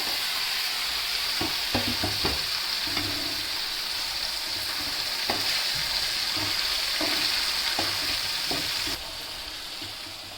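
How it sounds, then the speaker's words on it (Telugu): Tomato pieces frying in oil in a pan while cooking a roasted fish curry, producing a loud continuous sizzle with scattered stirring clicks and scrapes throughout, close up, easing slightly near the end. "ఇప్పుడు వేసుకున్న టమాటా ముక్కలు అయితే ఫ్రై అయ్యాయి ఫ్రెండ్స్"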